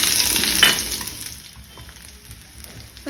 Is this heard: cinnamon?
yes